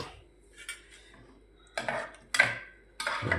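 A spoon clanks against a cooking pot while a sweet potato curry is stirred, with faint scraping at first and then three sharp, separate metallic knocks close to the listener.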